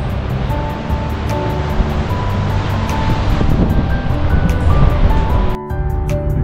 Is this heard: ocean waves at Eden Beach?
yes